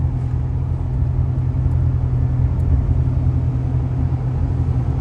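Steady low rumble of a big, high pickup truck heard from inside the cab while riding, a constant loud drone of road and engine noise with no talking.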